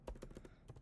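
An email address being typed on a computer keyboard: a quick run of soft, close key clicks in a brief, evenly paced flurry.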